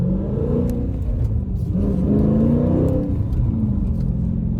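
A 2019 Dodge Challenger R/T Scat Pack Widebody V8 revs steadily under gradual throttle, a loud, close, continuous engine roar that swells slightly and holds without any talk.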